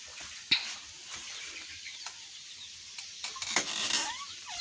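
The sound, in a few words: three-day-old chicks chirping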